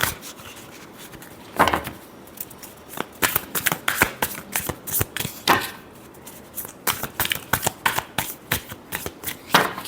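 Tarot cards being shuffled by hand, a series of crisp riffling bursts and soft slaps repeating in an uneven rhythm, close and fairly loud, with no talking.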